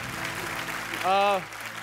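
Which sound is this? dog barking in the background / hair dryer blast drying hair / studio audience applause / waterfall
studio audience applause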